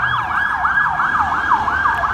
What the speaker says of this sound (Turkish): ambulans geçince tabii anlatamadım